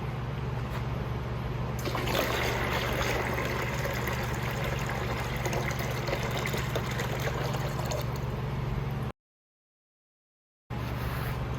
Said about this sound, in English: We'll go ahead and put some water in it.